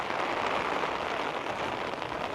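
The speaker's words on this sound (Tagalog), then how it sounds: "Hala, lakas ng ulan." Heavy rain pours down in the UK, a loud, dense and steady hiss that fills the whole stretch with no breaks and no voices.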